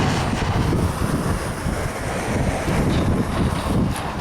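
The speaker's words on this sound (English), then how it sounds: "it's kind of windy out here." Wind gusts buffet the microphone outdoors on a breezy day, a loud, rough, continuous rumbling roar that swells and eases without any talking.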